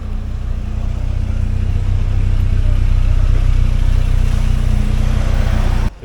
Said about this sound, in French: C'est Renault Spider.